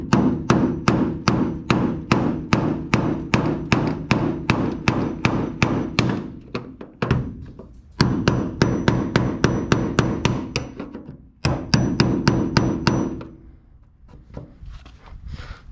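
A hammer drives a chisel against an Airstream trailer shell to separate it from the frame, ringing in fast, evenly spaced metallic blows in three long close bursts, with short pauses between runs.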